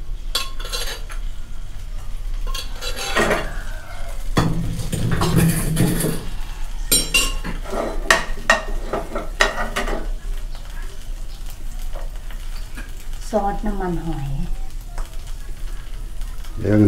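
Chili frying in oil in a used Teflon pan, stirred with a metal spoon: steady sizzle under repeated scraping and clinking of the spoon against the pan, close up, with a voice speaking at times.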